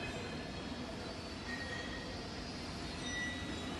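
The motor of a C/Z interchange roll forming machine runs with a steady, even mechanical drone, faint and unbroken throughout.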